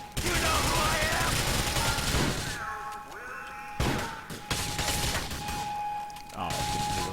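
Video game gunfire against cops, with rapid bursts of shots, crashes and booms separated by brief pauses, loud and close, mixed with game effects.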